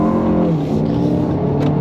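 A 2023 Lexus RX 500h running in front-wheel drive accelerates, its engine giving a loud, steady low droning hum from inside the cabin for a brief moment.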